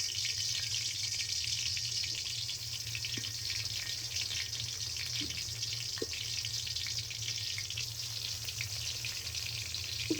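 Spiced brinjal frying in hot oil in a wok, giving a steady, continuous sizzle and hiss that runs evenly throughout, with a few faint clicks and taps.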